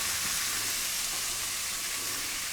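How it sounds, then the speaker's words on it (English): Salmon fillet searing in a hot pan, a loud, steady, close sizzle with continuous bright hiss and crackle and no pauses; nobody speaks. "You want to hear a good sizzle."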